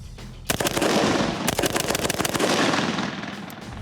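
Rapid gunfire from a rifle fitted with a SureFire muzzle brake, a burst of sharp, loud reports in quick succession with dense overlapping blasts filling the air, outdoors at a range.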